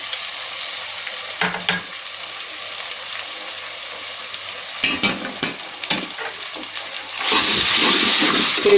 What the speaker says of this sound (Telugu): ఇప్పుడు దీంట్లో మనము అల్లం వెల్లుల్లి పేస్ట్ యాడ్ చేసుకుందాము.